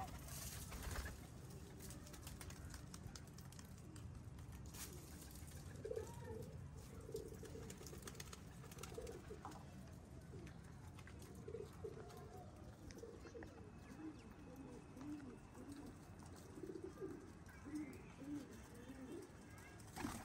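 Breeder pigeons in a loft coo softly and repeatedly against steady background noise, with scattered low calls through the whole stretch and no talk over them.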